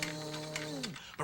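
A voice imitates a vacuum cleaner running, making a steady humming drone that slides down in pitch and cuts off near the end.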